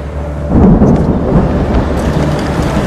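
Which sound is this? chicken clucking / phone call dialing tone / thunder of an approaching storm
thunder of an approaching storm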